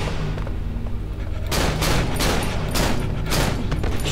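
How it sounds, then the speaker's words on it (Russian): In the video game Cry of Fear, after a rumbling lead-in, a run of loud, closely spaced revolver gunshots bursts out, about five or six sharp reports in quick succession. "одного выстрела валит револьвер"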